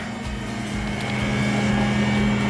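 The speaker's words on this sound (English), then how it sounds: "I'm sorry about the noise, but I am doing laundry at the moment." A steady mechanical hum with a low tonal drone, like a washing machine running nearby, continuous and even with no talking.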